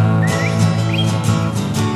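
Birds chirp and whistle in a few short, bright calls over a dense, steady background of music or crowd noise, the calls rising above the mix at intervals.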